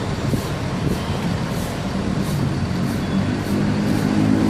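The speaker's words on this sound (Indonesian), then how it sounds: "Inilah keadaan terminal Pondok Pinang Lebak Bulus." Idling diesel buses fill the air at the Pondok Pinang Lebak Bulus bus terminal, a steady loud low rumble with faint air-brake hiss and no one speaking.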